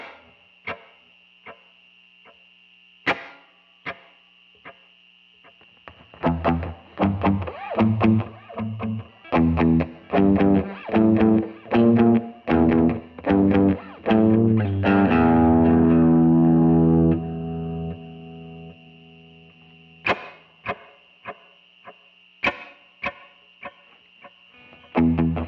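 Electric guitar run through a quarter-note delay pedal on a pedalboard, a few sparse plucked notes opening into a dense strummed and picked passage whose repeats ring out in time, then a fading tail and a few quiet notes alone.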